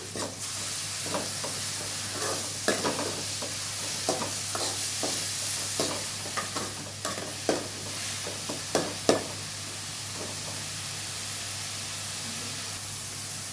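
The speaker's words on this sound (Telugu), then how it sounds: "ఇవన్నీ వేసుకున్నాక ఒకసారి కలిపెట్టాలి" Coarsely ground onions with curry leaves sizzle in a frying pan while a spoon stirs them, giving soft repeated scraping strokes over a steady frying hiss in a home kitchen.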